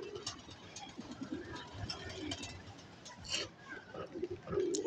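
A pigeon coos quietly in low, throaty bursts among faint background noise and scattered ticks.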